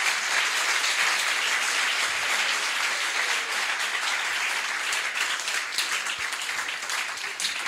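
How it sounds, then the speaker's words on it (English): An audience at the closing session of an evaluation practice exchange gives a sustained round of applause, a thick, even wash of clapping that holds steady for the whole stretch. "Please join me in a round of applause."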